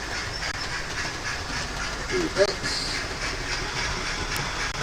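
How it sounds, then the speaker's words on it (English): A noisy model steam locomotive, Hamilton number 26, running with a steady hissing chuff and faint mechanical clatter, a brief squeaky chirp partway through, and a voice speaking briefly. "we've got another noisy train we can have on"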